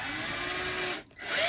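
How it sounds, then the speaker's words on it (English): A power drill boring a hole in a wooden block whines steadily at high speed, stops briefly, then spins up again, loud and close with no talking. "I'm gonna try and drill a hole"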